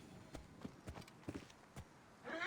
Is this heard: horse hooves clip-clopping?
yes